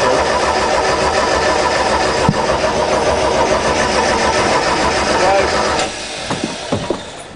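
A boat engine cranking and turning over after its spark plugs were refitted, a loud, steady mechanical churn close by that drops away near the end, with people talking.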